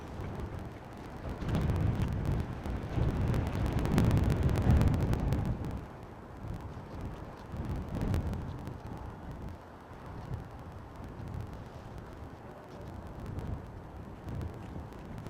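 A coat flaps hard in strong wind at Bristol Airport, giving loud rapid cracking bursts like gunfire over roaring wind buffeting the microphone, strongest in the first six seconds, then easing to steadier gusting rumble.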